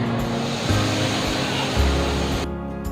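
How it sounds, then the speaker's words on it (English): Water poured into a hot pan of roasted chickpeas gives a loud, steady broadband rush and hiss that ends abruptly just before the close, leaving a quieter tail. "So that's when we add our water."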